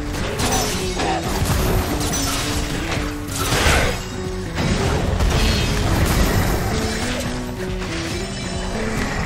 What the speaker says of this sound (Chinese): 哦，那个爆炸好强！